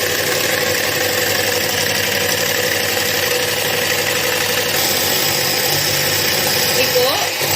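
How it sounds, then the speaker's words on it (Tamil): An electric mixer beats egg whites with a steady, even motor whir that runs the whole time, close and continuous, with a voice talking over it. "முட்டையோட வெள்ளைக்கரு தனியாக பீட் பண்ணாதான் நல்லா சாஃப்டாக இருக்கும்."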